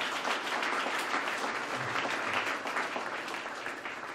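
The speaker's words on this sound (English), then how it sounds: "Let's give another round of applause." Sustained applause from an audience at a mayor's press conference for the Wing Luke Museum, a dense, even wash of clapping that holds steady for several seconds before easing slightly.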